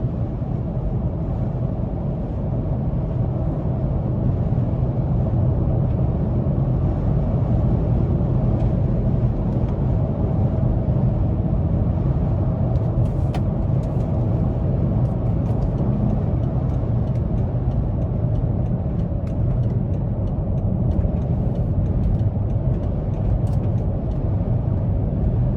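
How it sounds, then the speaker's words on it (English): Steady engine drone from a 2017 BMW X5 M Sport under throttle while driving, heard from inside the cabin as a continuous low rumble mixed with road noise, with no talking. "the sound that comes out of this vehicle when you give it throttle"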